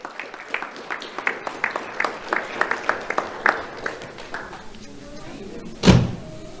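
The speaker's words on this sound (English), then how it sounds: "Let's have a round of applause for Jillian Davis." Applause from the audience at a sheriff's office Do The Right Thing awards ceremony, a run of distinct claps, fairly near and steady, fading out, then a brief louder bump at the end.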